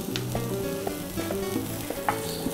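Powdered saffron and cumin sweat in a hot pan, giving a loud, close sizzle with a few stirring scrapes and light clinks. No voices are heard.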